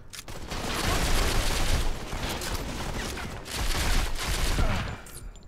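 Rapid, dense gunfire from the mobile shooter Modern Combat 5 during an online multiplayer match: sustained overlapping bursts of automatic fire, loud and close, with a brief lull midway and no voices.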